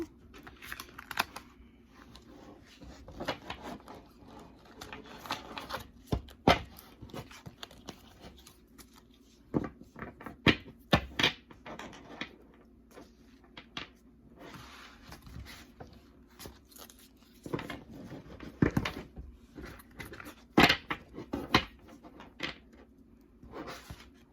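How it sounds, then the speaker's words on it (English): Tarot cards being shuffled in quick, crisp bursts of riffling and flicking, with short pauses between, close and fairly quiet. "Give these cards a quick little shuffle."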